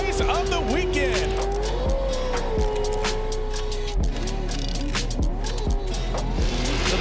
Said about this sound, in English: So the green flag has flown in this Pro 2 race.